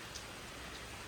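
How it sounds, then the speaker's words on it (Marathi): Steady rain falling outdoors during the monsoon, a dense, even hiss of drops with no distinct breaks, soft and continuous for about a second with no voices. "आता पाऊस पण असा पडतोय"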